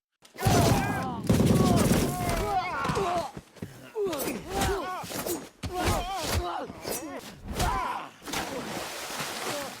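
Gunfire in a film gunfight as an armed man returns fire, sharp broadband bursts and volleys repeating across the scene, mixed with slams and thuds, loud and close, with shouted voices and harmonic cries layered over the shots.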